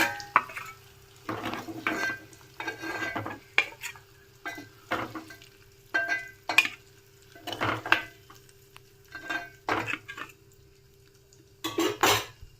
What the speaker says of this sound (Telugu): ఇప్పుడు ఎగ్స్ ఫ్రై అయిపోయి ప్లేట్లోకి తీసుకుందాము